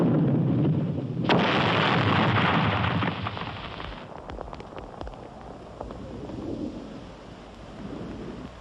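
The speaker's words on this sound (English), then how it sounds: "Let's wake them up with some mortars." Mortar fire in a 1977 war film booms as loud, heavy explosions, one big blast followed by rumbling reverberation and scattered crackling impacts that fade into a long, low rolling roar.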